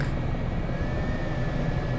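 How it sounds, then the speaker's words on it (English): Helicopters approaching at a Western Australia airfield, heard from inside an AS365 N2 cabin: a steady, broad rotor-and-turbine rumble with a faint high whine, continuous and moderately loud throughout. "I hear the other helicopters coming in now"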